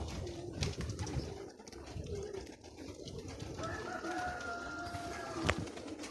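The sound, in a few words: pigeons cooing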